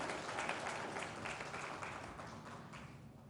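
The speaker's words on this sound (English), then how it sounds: "Please give him a round of applause." Applause for a chief guest at a post-budget conference on tax proposals, heard as a soft, distant wash of clapping held steady for a few seconds and slowly fading.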